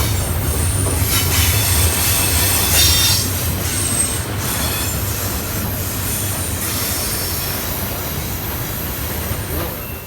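A CSX freight train with Union Pacific locomotives rumbles past close by, with steady wheel noise, metallic squeals and rattling cars throughout.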